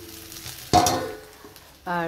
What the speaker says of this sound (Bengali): এখানে আলু বেগুনটা ভাজা হচ্ছে।